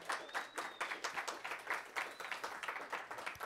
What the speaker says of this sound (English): Another round of applause for our artists here.